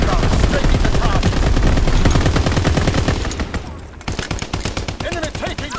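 Fighter-plane strafing gunfire in Call of Duty: WWII on the Shipment 1944 map in domination mode: loud, dense rapid-fire bursts rattle continuously, break off briefly, then resume as a fast string of close shots.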